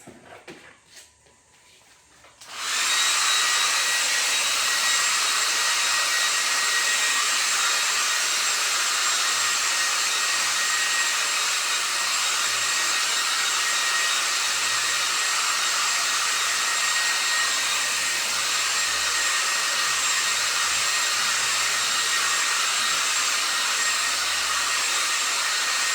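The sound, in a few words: hair dryer drying paint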